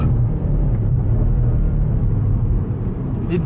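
Steady low rumble of a car engine cruising at an easy pace from inside the cabin, a constant dense drone with little change in pitch or loudness.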